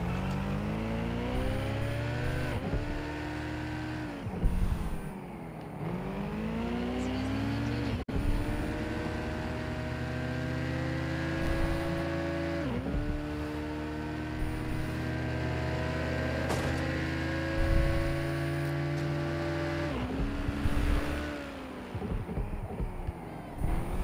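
A fast car engine in the open-world game Watch Dogs Legion, revving steadily and rising and falling in pitch through gear shifts, loud and continuous throughout.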